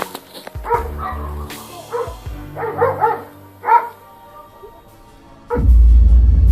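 Dogs bark close by and loud while catching a house intruder, firing a series of sharp barks and yips with short gaps between them. A heavy, loud rumble follows at the end.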